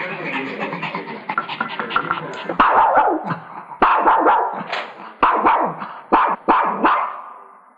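A playful family dog barks in a home where children are present. The sharp, loud barks come in quick bursts and are mixed with yips and growling throughout.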